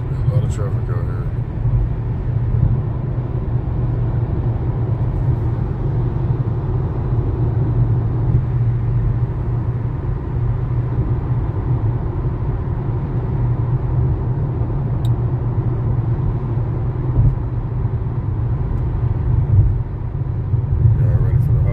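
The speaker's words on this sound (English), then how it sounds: "There's a lot of traffic out here, though." Steady low rumble of road traffic heard from inside a Kia Sportage SX, constant engine and tyre drone holding evenly throughout with no talk over it.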